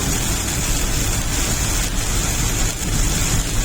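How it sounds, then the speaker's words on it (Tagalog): Heavy rain pours steadily near a fishpond, a dense even hiss that stays loud and constant throughout, with no talking. "Heavy rain."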